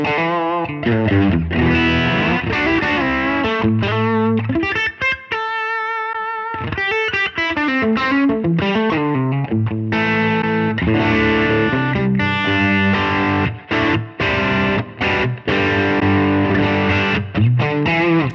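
Electric guitar run through a ToneX version 2 amp tone model, crunchy and distorted, playing a long busy riff of picked notes and chords with a brief sustained chordal break midway, loud and upfront throughout.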